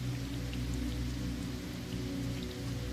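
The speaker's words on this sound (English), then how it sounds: "just like the rain that falls around you, falling into those puddles" Steady rain pattering and splashing into puddles in a city, a constant dense wash of drops with no voices.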